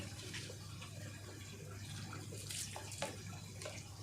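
Water runs steadily from a tap, rinsing soil away from the roots of a plant cutting; a continuous broadband wash with small splashing variations, fairly close and alone.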